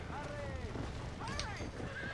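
A horse in the Xbox 360 game Red Dead Redemption whinnies twice near a burning barn, with each neigh a loud, close, descending cry over steady game ambience.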